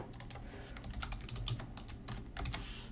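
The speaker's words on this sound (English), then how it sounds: "I'm going to type in a password here." Keys clatter steadily on a computer keyboard as a password is entered, a close, even run of small clicks with a few louder taps and no voices.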